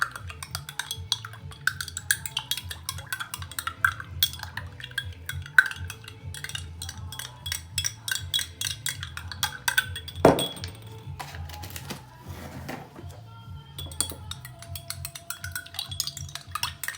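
A teaspoon stirs Nesquik into a chocolate cake mixture, tinkling rapidly and repeatedly against the bowl in a steady, close, light clinking rhythm, with one sharper knock partway through.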